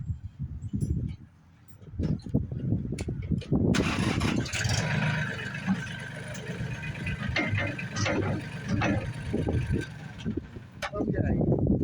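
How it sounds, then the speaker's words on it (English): A tractor fitted with 4000 lb clamp-on forks cranks and starts, its engine settling into a loud, steady run, with someone talking and wind buffeting the microphone. "I'll even start the tractor up"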